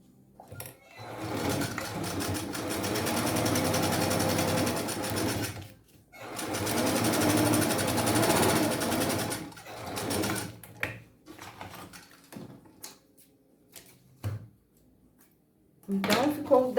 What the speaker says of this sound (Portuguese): Depois que eu passei essa costura, eu vou virar o meu bolso para baixo e arrebater essa costura aqui.